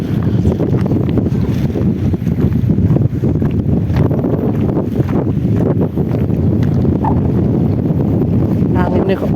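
Strong wind buffets the microphone on the water while fishing, producing a continuous low rumbling roar with gusty swells. Faint talk and a few small knocks sit beneath it.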